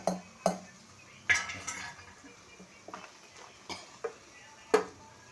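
A spoon stirs chenchala leaves with turmeric and salt in oil in a metal pan, making sparse clinks and scrapes spread over a few seconds, with quiet room noise between.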